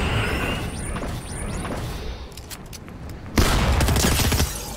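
Shotgun fire in a Fortnite match, a few sharp bursts of gunfire among game sounds, with one loud blast standing out near the end.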